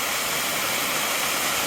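Lower South Falls in Oregon pours with a steady, dense roar of rushing water, a continuous close wash of broadband noise with no voices.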